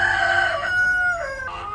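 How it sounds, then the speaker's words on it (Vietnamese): A cartoon chicken gives a loud, close, drawn-out crowing call in several pitched segments, alone without talk. "con gà nhà ai đi lạc vào nhà mình thế này nhỉ?"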